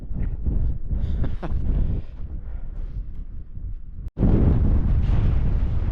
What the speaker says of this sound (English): Shame it's so windy.